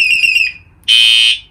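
A loud electronic alarm from a Chinese motorcycle's lamp unit warbles briefly, stops, then blasts a single sustained high-pitched tone at close range.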